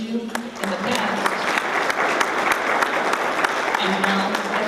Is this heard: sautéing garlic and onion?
no